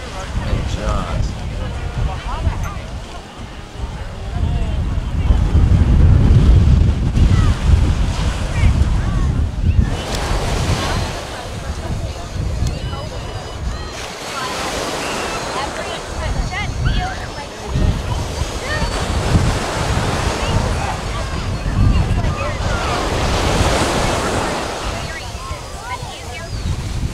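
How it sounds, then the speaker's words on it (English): Strong wind and breaking surf on Jetty's Beach by the jetty at the western approach to Nantucket Harbor, a steady roar of waves with gusty wind buffeting the microphone, swelling loudest early on, with some talk over it. "Pretty windy over here."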